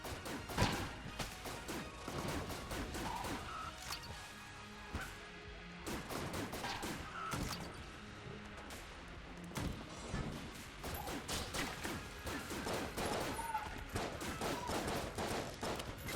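Rifle fire from the twin-stick shooter Enter the Gungeon crackles in rapid volleys of sharp, close game shots mixed with impact thuds, running almost continuously under layered game effects.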